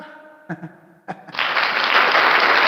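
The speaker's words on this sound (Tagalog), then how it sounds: "Palakpak." A burst of applause from a livestream audience breaks out after a few short voice sounds and continues loud and dense to the end.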